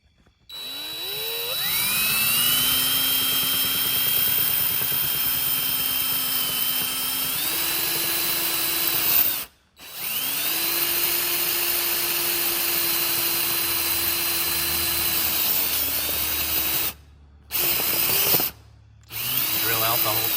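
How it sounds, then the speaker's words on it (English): Power drill bit boring through the rubber and metal bushing of an SRT-4 shifter, a loud continuous whine rising in pitch as it works, with two brief stops and a pair of short pauses near the end. "All right, run the drill bit through there."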